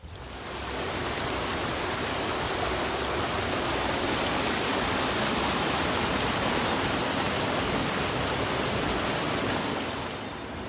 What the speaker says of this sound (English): The water is running hard and high.